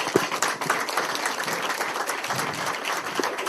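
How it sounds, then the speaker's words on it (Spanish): A live audience claps for Ing. Bettina Kornitz at a talk, a dense, steady patter of many hands held at an even level across the few seconds. "Un aplauso para Betina."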